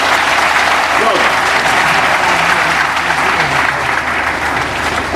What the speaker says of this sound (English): the President deserves a resounding applause